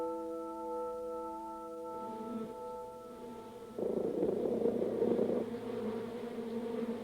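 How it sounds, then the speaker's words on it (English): A steady, low buzzing drone like a honeybee, close and continuous, growing rougher and louder partway through. "That funny dance of wiggles and buzzes that the scout is performing"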